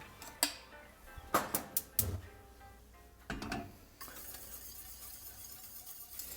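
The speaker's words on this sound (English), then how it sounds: "We're gonna whisk it until it thickens." Metal whisk knocking and scraping against a pot of lemon meringue pie filling on the stove, a run of sharp clinks in quick bursts followed by a steadier soft swishing, close and alone.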